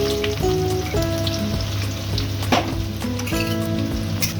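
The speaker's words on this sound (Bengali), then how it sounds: "পেঁয়াজগুলো কুচিয়ে রেখেছি তেলের মধ্যে দিয়ে দিচ্ছি" Chopped onions frying in hot oil with whole cardamom, cinnamon, cloves and bay leaves for a Bengali-style chicken kosha, giving a loud, continuous close sizzle with a few brief clinks and stirring knocks.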